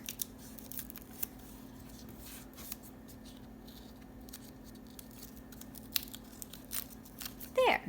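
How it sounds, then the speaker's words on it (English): Backing paper peels off a sticky craft sheet in short crackling tears and faint rustles, irregular and close, with a louder crinkle at the end. "you're going to peel off the paper on the places that you want to make that one color"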